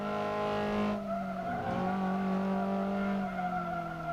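Sustained engine whine of a Toyota AE86 in a video game, holding a high steady rev with a brief dip midway, loud and alone with no talk.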